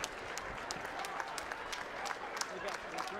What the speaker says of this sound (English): a round of applause for both of the fighters in this ring